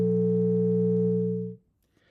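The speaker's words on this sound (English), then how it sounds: "You want a short attack, will sound like this." A synthesized Csound tone shaped by a linen envelope with a short attack starts fully at once, holds a steady pitch with harmonics, then fades out quickly after about a second and a half, alone without talk.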